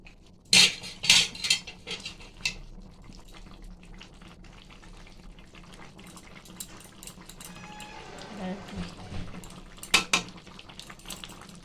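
A spoon scrapes and clinks against a pot as jackfruit curry is stirred after ghee goes in, with sharp metallic knocks, a soft background sizzle and a brief watery bubbling stretch. The clinks come in scattered bursts and are fairly close.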